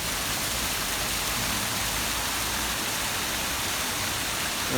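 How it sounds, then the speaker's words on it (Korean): Water pours from an artificial limestone waterfall in a garden, making a steady, even rushing hiss that stays at the same level throughout, with no voices. "석회석 재질로 폭포수를 조성을 했는데요"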